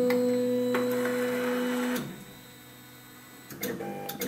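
An Ortur CNC laser engraver hums with steady tonal whine as it powers up and homes, then stops abruptly into near silence before a few faint clicks and movements return.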